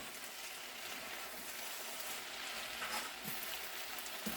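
Mushrooms and broccoli frying in a skillet for ramen give a steady, soft, even sizzle that carries on alone with little change throughout.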